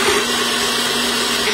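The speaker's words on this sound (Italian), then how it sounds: "chiudo e frullo il tutto" A blender runs steadily on almonds and water being blended for Sicilian almond granita, a loud, continuous whirring drone with no pauses.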